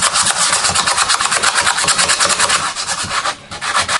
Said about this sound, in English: it's sanding both sides, sanding the inside of that side and the inside of that side